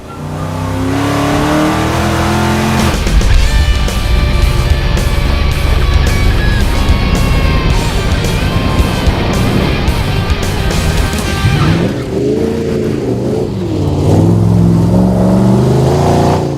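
A 1968 Dodge Charger rat rod is driven off-road, its V8 engine rumbling loud and close, revving and roaring steadily with rattling over rough ground.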